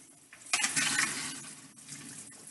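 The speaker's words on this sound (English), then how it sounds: "I like to run a little water down with it." Tap water runs into a kitchen sink in a steady broadband wash that swells loudly after a soft start, then eases slightly, close and alone without talk.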